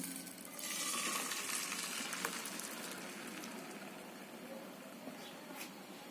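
Omelette mixture poured into a pan on low heat, giving a soft, steady sizzle close by that swells early and then settles at a quiet, even hiss.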